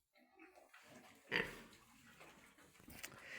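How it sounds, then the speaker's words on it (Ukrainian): Soft piglet grunts and snuffling close by, with one louder squeal-like grunt amid quiet shuffling in a barn. "Ще є в нас маленькі поросятка"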